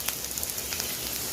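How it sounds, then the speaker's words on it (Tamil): Chopped big onion and small shallots hitting hot oil in a pan, giving a steady close crackling sizzle with scattered pops throughout, no voices. "எண்ணெய் வந்து நல்லா சூடாயிடுச்சு. இப்போ வந்து இதில் வந்து பெரிய வெங்காயம் ஒரு சின்ன வெங்காயம் எடுத்து கட் பண்ணி வச்சுருக்கேன். அந்த வெங்காயத்தை நான் இதோட சேர்த்துக்கிறேன்."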